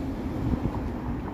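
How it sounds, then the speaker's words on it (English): Wind on a chilly Toronto city night gives a steady low rumble buffeting the microphone for a short moment. "it is a chilly, windy night right now"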